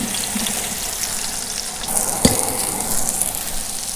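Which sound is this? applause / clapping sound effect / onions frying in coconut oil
onions frying in coconut oil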